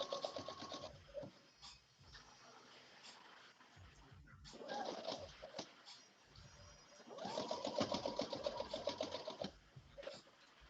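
A sewing machine runs in bursts stitching the raw edge of tunic fabric, with short pauses between runs and a steady whirring, clattering needle rhythm up close.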